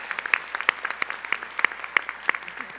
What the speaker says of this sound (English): I wanted to give you a chance to applaud their names